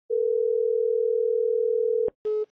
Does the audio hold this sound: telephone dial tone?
yes